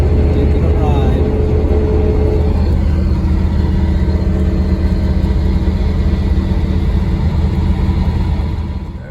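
A car on a drive, its steady engine rumble and road noise filling the cabin up close, with a brief vocal sound near the start and the drone fading at the end.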